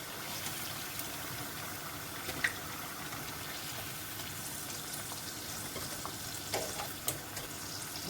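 Plantain (dodo) and yam slices frying in hot oil for a Nigerian dish, a low, even hiss of oil with a few scattered pops and small clinks.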